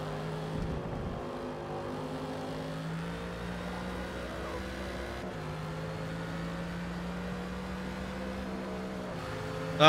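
A GT3 race car engine in Forza Motorsport at Watkins Glen holds a steady, loud droning rev against the limiter, with brief dips as it bounces off the cutoff, and no talking.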